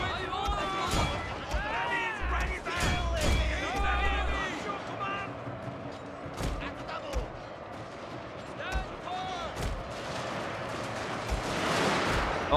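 Volleys of musket fire from troops in Shogun 2: Total War crack out as sharp, scattered bangs over a busy battle din, with shouting voices in the first seconds and a rising roar near the end.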